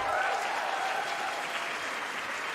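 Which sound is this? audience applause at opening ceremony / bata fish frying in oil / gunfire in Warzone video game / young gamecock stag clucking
audience applause at opening ceremony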